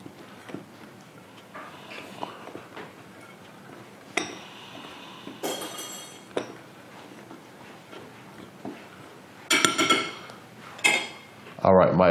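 A spoon clinks and scrapes against a bowl while stirring communion bread dough of oil, water and dry ingredients, producing soft, intermittent knocks and scrapes with a few louder clatters toward the end.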